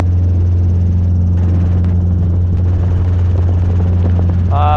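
A Robinson R22 helicopter in flight on a training lesson gives a loud, constant rotor and engine drone heard from inside the cabin, with a faint radio voice at the end.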